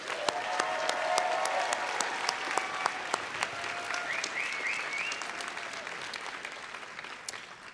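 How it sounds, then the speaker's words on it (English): Graduates are applauded at the 2019 KGI commencement, a broad crowd clapping steadily that slowly tapers off, with faint tones and scattered sharper claps mixed in. "let's give a big round of applause for the MN graduates"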